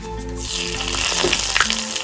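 Bay leaves drop into a little hot oil left from frying potatoes and crackle in a steady, close sizzle, with faint background tones running underneath.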